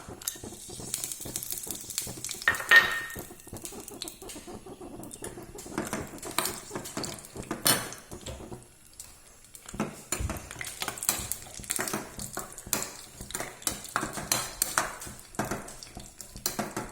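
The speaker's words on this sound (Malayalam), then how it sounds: "നെയ്യ് ചൂടാകുമ്പോൾ കുറച്ച് ആദ്യം അണ്ടിപ്പരിപ്പ് വറുക്കണം." Cashew nuts frying in hot ghee in a pan for South Indian ven pongal, a steady sizzle broken by frequent scraping and clinking from stirring, close and fairly loud with no voices.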